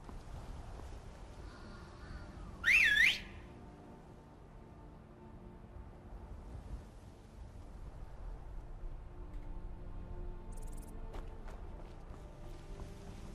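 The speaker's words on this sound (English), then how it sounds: "Horse whistle." In Skyrim, a single short rising whistle is blown to call a horse. It sounds loud and close for about half a second over a quiet, steady game background, with a faint blip later.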